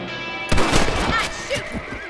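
Gunfire in the Red Dead Redemption video game, a loud burst of shots starting sharply and echoing over about a second and a half, with game voices faintly present.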